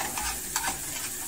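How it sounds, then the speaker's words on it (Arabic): Garlic fries in a pan until browned, a close, soft sizzle with a couple of stirring scrapes in a brief burst. "انا عايزه ادي للثوم لون، ياخد لون كده"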